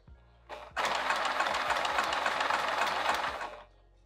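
A sewing machine stitches a zipper pocket on vinyl, starting with a brief whir, then running steadily and close for about three seconds with a rapid mechanical chatter before stopping.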